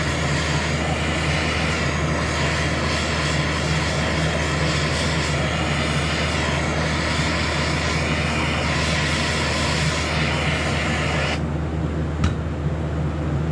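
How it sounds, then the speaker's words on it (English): TIG welding a fillet weld on aluminum with a Miller Syncrowave 250 transformer-type welder: a loud, steady buzzing hiss over a low electrical hum that runs unbroken, then drops off sharply near the end. "We're just gonna do a little fillet weld on top here."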